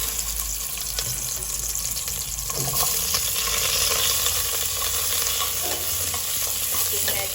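Lemongrass and Khmer seasoning sizzle steadily in hot oil in a home kitchen, a close, continuous frying hiss with occasional stirring scrapes while soup is prepared.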